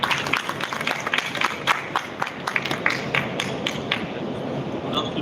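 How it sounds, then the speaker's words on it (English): Audience applause welcoming a speaker to the stage at a Sudarshan Pharma corporate event, a steady wash of many hands clapping with sharp individual claps standing out, moderately loud and continuous throughout. "please welcome with a big round of applause"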